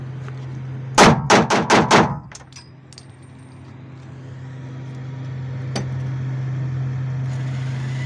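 Five gunshots from a Pazzini G16 fire in quick succession, loud and close, followed by quieter ambient hum and a single later clank.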